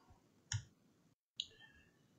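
Two sharp computer mouse clicks while working in 3D design software on a keychain model, quiet and close, separated by a brief pause with no talking.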